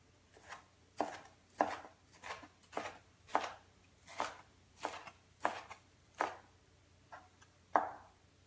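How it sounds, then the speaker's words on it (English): A knife chops vegetables for a soup that includes jalapenos, making about a dozen crisp, separate chops in a loose, steady rhythm close by, alone without any talking. "and then cut the slender cuts in half one time, because then they'll be perfect for your spoon."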